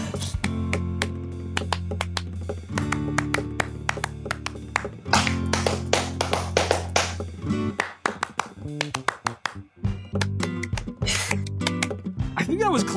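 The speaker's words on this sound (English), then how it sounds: "I hear you clapping as you're clapping" Hands clap in quick, irregular sharp bursts, close and fairly loud, over steady background music and chatter at a Halloween party game.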